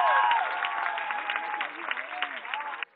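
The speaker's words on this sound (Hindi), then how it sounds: "तालियां आती रहनी चाहिए" Audience applause at a Kavi Sammelan poetry gathering, steady clapping through most of the clip under a voice, cutting off abruptly near the end.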